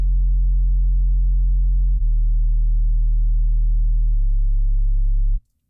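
A bass synth sound from Monarch, played without EQ, holds three long, deep sustained notes in a row with small pitch steps between them, loud and isolated, ending abruptly.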